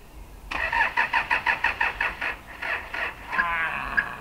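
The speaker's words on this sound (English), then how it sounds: "you mean the only Toyota in the woods won't start?" A Toyota car engine is cranked in the woods, giving a loud, rapid, rhythmic whirring of about a dozen turns. It then stumbles briefly without settling into a steady idle.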